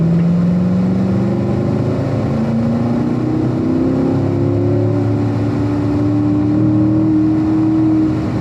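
A sports car engine accelerates on a race track at a driving school, rising steadily in pitch as it pulls out of a corner, loud and close throughout with no talk.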